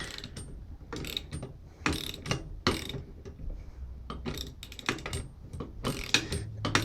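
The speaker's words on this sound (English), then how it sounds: "And then you just sit there and bolt it on" A ratchet tightening bolts on the lower control arm of a 1997 Nissan Maxima during front-end repair, with rapid clicking bursts that start and stop repeatedly, close and fairly loud, alongside clanks of the tool against metal.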